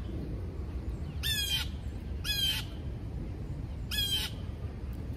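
Three loud, harsh crow-like caws ring out about a second apart over a low, steady outdoor rumble in Central Park, New York, with no one talking.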